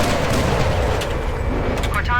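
Banshee cannons in Halo fire in a dense, rapid barrage of booming blasts, loud and continuous, mixed with explosion rumble and a voice talking over it.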